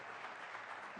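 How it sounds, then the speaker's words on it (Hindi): Audience applause at a News18 Rising Bharat Summit welcoming Nitin Gadkari to the stage, a steady dense wash of clapping throughout the short moment. "तो जोरदार तालियों के साथ अभिनंदन करिए नितिन गडकरी का"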